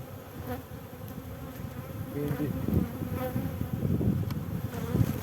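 Honeybees buzz steadily around an open frame from a beekeeping nucleus colony, a dense close hum that swells slightly midway, with a single brief spoken word.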